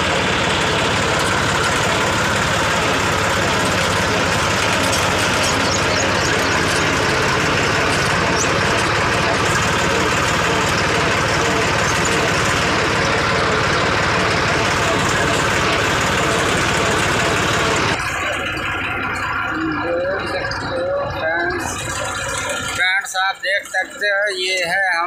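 A tractor engine runs steadily on a village drive, a continuous loud low rumble and idle-like drone that holds for most of the stretch before the sound drops away and breaks up near the end.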